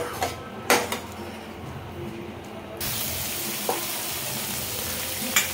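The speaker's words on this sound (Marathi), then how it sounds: "आपण आता वाटप परतत आहे. अजून चांगलं तेल सुटेपर्यंत वाटण परतायचं." Ground masala paste frying in oil for Malvani kaleji, a steady hiss of sizzling with a few clinks of a stirring spoon, the sizzle turning fuller and louder partway through, no talking.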